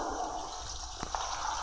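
A toilet flushes in the horror video game Dead by Daylight, a continuous rushing gush of water with a couple of small knocks near the end, heard alone at moderate loudness.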